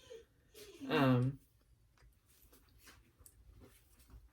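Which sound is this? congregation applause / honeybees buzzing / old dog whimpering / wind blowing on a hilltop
old dog whimpering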